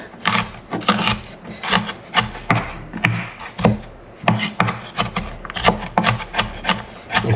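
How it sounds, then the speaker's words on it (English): A knife chops shallots on a wooden cutting board with rapid, irregular strokes for a chicken satay, each cut a close, crisp rasping tap that repeats steadily without any talk. "next we got our shallot here. Alright, and once again, we're going to mince them up"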